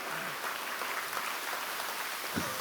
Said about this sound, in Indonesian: Kasih tepuk tangan jangan setengah-setengah, kasih kemuliaan buat Tuhan Bapak Ibu